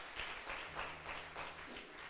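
A church congregation applauds in praise during a worship service, a steady wash of clapping with rhythmic swells roughly every half second, dense and fairly close, with no clear speech over it.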